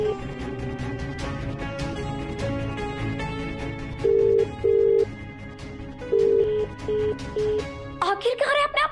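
A telephone rings unanswered in repeated short, even tones over background music, then gives way to a burst of other sound at the end.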